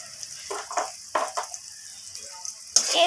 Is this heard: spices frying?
yes